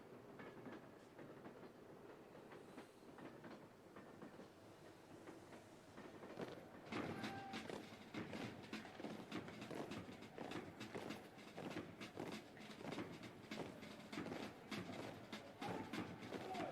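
A train carrying militia rumbles along in the video game Pathologic HD Classic, a steady roll that grows louder halfway through with a rapid clickety-clack of wheels over the rails, no voices.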